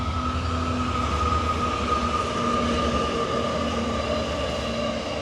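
A train rumbles past close to a campsite, a loud, continuous roar of rolling wagons with a steady low drone and faint tonal whine, filling the whole stretch.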